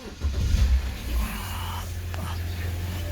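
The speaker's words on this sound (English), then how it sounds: "So first things first, we start the car" A car engine starts with a short cranking burst and then settles into a steady, low idle hum; the car is being checked for a bad alternator, and a hushed voice speaks briefly near the start.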